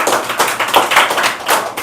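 Students at a prize ceremony clap loudly together, a dense close-up patter of many hands with pulsing bursts throughout, no voices over it.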